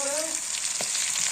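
Food frying in a hot pan before spinach is added, a steady close sizzle with a brief stirring scrape partway through, with no talk.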